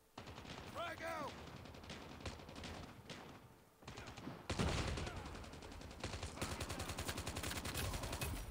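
M4 carbine gunfire in the COD Mobile video game on the Nuketown map, with repeated rapid automatic bursts, fairly faint overall, growing denser toward the end, with game voice callouts mixed in.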